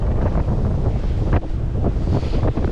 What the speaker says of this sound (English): for what it is, just some big wind waves,